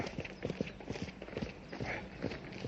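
Hooves of a horse pulling a light dog cart clip-clop steadily along a road at a brisk pace, close and fairly quiet, with no voices over them.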